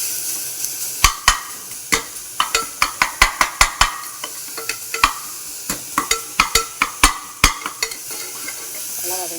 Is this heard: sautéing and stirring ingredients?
yes